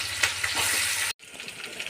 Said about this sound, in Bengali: পেঁয়াজ, লঙ্কা সব কিছু একদম ভাজা হয়ে গেছে